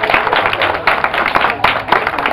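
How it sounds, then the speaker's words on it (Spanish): Brief applause at a wrestling press conference in San Pablo Autopan, a small group clapping unevenly in quick bursts, close and fairly loud, lasting only a couple of seconds. "fuerte el aplauso para él."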